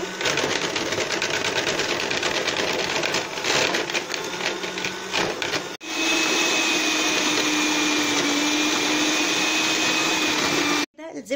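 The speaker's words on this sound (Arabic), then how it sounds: "اشغل عليها المضرب" An electric hand mixer beats cold butter with powdered sugar for American butter biscuits, giving a steady, loud whirring drone that runs almost without pause, cuts out briefly midway, then resumes at a slightly higher pitch before stopping near the end.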